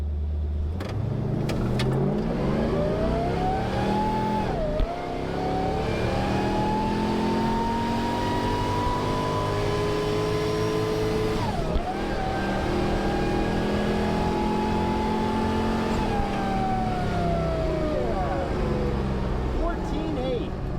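A high-mileage, neglected Morrvair car launches hard, its engine climbing steadily through the gears with a brief shift dip, loud and sustained from inside the cabin.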